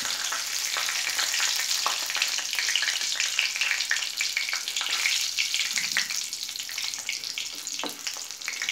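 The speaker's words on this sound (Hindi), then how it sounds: "हम इसमें डालते हैं जीरा खड़ी लाल मिर्च" Cumin seeds and whole dried red chillies sizzle and crackle in hot oil, a steady dense frying hiss with scattered pops, close and continuous with no talking.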